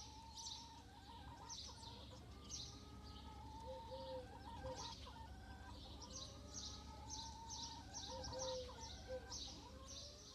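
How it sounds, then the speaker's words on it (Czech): Domestic chickens cluck softly and intermittently in a quiet farmyard, with faint repeated calls over a low steady background hum. "Samec kura domácího se nazývá kohout. Samice je slepice a mládě je kuře."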